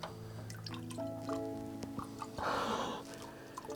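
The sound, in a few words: liquid dripping from massive iron barrel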